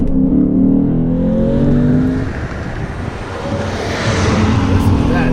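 A Lexus GSF V8 pulls hard under acceleration, a loud, close engine roar climbing steadily in pitch, easing briefly before surging again, with a voice talking over part of it.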